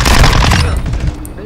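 Rapid gunfire from the video game Modern Warfare 2, loud and dense at first, then thinning into scattered shots, with voices talking over the action.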